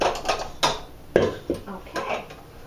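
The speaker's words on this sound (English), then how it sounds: "take my paddle off, take my excess off the paddle" A mixer paddle is scraped clean of excess shortbread dough, giving several sharp metallic clinks and scrapes in an uneven rhythm, close and moderately loud.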